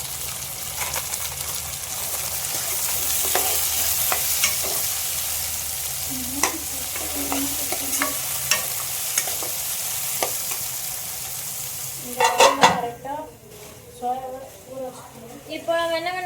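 Onions and chopped tomato sizzle and fry in a pan while being stirred, with steady frying hiss and scattered spoon scrapes, then a louder burst of sizzling and clattering near the end; a voice talks over much of it.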